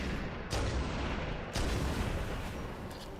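A big sniper rifle in a modded Halo 2 fires two heavy, booming shots about a second apart, each followed by a rumbling tail under a constant loud background roar.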